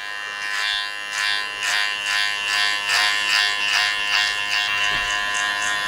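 Electric hair clippers with a number three guard buzz steadily through hair at close range, a constant motor drone with rhythmic pulses as strokes pass through the hair, with no talking.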